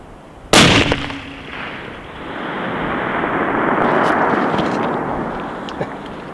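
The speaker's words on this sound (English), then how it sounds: "So I'm going to shoot it for 0 windage." A single long-range rifle shot fired during wind-over-terrain shooting, a sharp loud crack followed by a long, rolling rumble of echo that swells and slowly fades across the landscape.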